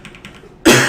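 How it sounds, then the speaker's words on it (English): A single harsh cough bursts out loudly and close after a moment of quiet, abrupt and raspy. "I think I caught my cough"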